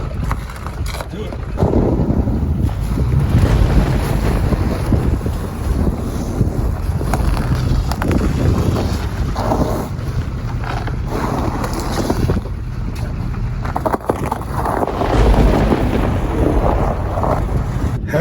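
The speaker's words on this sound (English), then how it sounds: "Driving out on the ice." A vehicle drives out across a frozen lake on an ice-fishing trip, a loud steady engine rumble and tire noise heavily buffeted by wind, with people talking over it.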